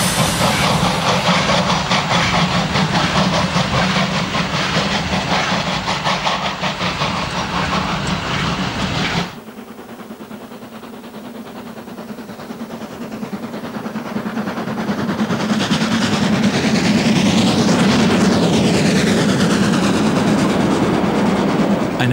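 Train departing Neuenmarkt-Wirsberg on the steep Schiefe Ebene railway in early 1973, a loud continuous rumbling roar that drops abruptly partway through, then swells again into a heavy, close rolling passage.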